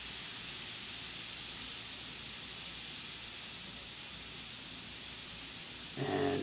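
A steady, close airbrush-like hiss of paint spraying, continuous and even for several seconds, with a slight shift in tone near the end.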